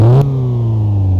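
Car engine idles with one exhaust bolt loosened, a steady low rumble that follows a brief louder rev at the start, close and without talk.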